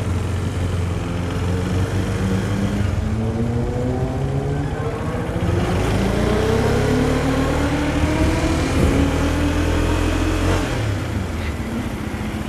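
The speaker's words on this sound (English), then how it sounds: "Wow, BMW 1000 RR." A BMW S1000RR sport motorcycle engine revs up steadily, its pitch sweeping upward through a rising, sustained whine, loud and close with a roughly constant level throughout.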